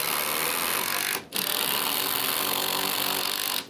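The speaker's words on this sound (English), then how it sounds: "I'm gonna go ahead and put my fasteners in this side." A power drill drives screws into deck boards, a loud continuous whirring run that cuts out briefly twice, with no talking.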